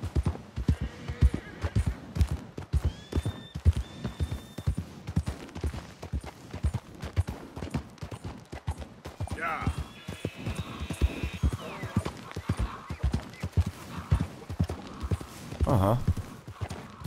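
Horse hooves clip-clop at a steady riding pace in the video game Red Dead Redemption 2, alongside a brief whinny and a few other game sounds. Someone talks in German over the hoofbeats.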